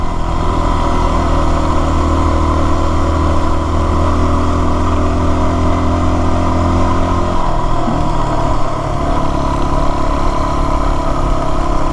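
A Yamaha WR250R dirt bike with an IMS 3-gallon tank rides a rocky North Routt trail, its engine droning loud and steady close by, then shifting pitch as the rider eases over rocks.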